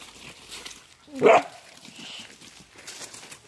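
A single short bark from a puppy rings out once in the middle of a quiet indoor scene with faint background noise.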